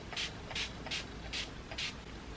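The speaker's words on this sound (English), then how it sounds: "for setting spray, I'm going to take the Barry M All Night Setting Spray" Barry M All Night extra-strong makeup setting spray mists out in five short, even hissing bursts, close and steady, with no talking.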